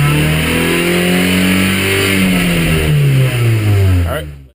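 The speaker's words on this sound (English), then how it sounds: "I'm just gonna let this warm up and then I'll just rev this up a bit." A car engine, being warmed up before an ECU reflash, revs loudly and close, its pitch swelling and falling in several sweeps before cutting off abruptly at the end.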